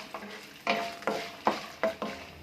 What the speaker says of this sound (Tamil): மிளகா வத்தல் போட்டு ஒரு ஒரு நிமிஷம் அளவுக்கு வறுத்து விட்டுக்கிட்டால் போதும்